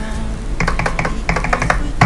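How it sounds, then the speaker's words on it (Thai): Close computer keyboard typing: a quick run of crisp key clicks in two bursts, with a slightly firmer keystroke near the end. "enter ที่แป้นคีย์บอร์ด"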